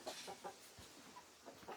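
Soft, faint clucking from several chickens and a rooster, short repeated calls scattered irregularly over a quiet background.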